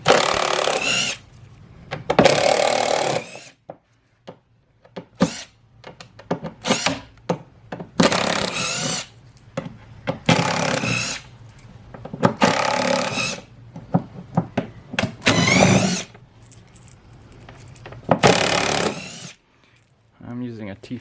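Plastic airbox top being pried and removed from a MK7 Golf GTI engine bay, bursts of scraping, rustling and clattering plastic separated by pauses, close by with intermittent talking.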